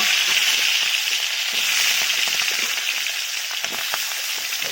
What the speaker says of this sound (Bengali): আলু ভাজা হবে এবারে